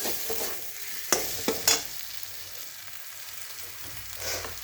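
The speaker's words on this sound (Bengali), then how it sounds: "মশলাটা ভাজা হচ্ছে, মশলাটা ভালো করে ভাজা হোক আর একটু।" Masala spices fry in a pan with a continuous soft sizzle, punctuated by a few sharp clinks and scrapes from stirring, with no talking.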